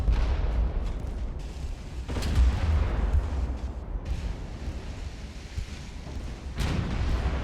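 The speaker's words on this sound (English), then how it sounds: "Yeah, we're gonna get creamed by that torpedo." Naval battle in the Ultimate Admiral: Dreadnoughts warship game, a torpedo striking a ship's stern, with loud rumbling booms and explosions rising sharply near 2 and 6.5 seconds over constant low roaring battle noise, no voices.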